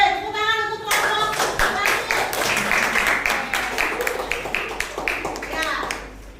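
Students in an Indonesian language class clap together for a group after its presentation, a dense burst of hand claps that starts after a brief spoken moment and continues steadily for several seconds before tapering off.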